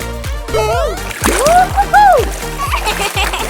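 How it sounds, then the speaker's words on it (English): Cartoon bathtub filling with water in a children's house-building video game, with bright splashing bursts over cheerful musical tones and chimes, fairly loud and busy throughout. "Fill the bathtub with water."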